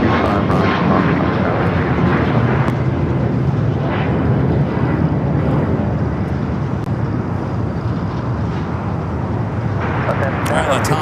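An airliner taking off from runway 25 right at LAX: a steady, broad jet engine roar fills the whole clip, loud and continuous, with a distant rumbling quality.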